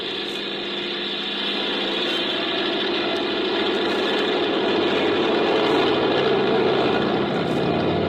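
Small airplane engine running up for takeoff in an old-time radio drama, a steady droning roar that swells slightly louder over the clip with no talk.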